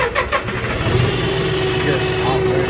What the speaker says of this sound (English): Let me crank the tractor up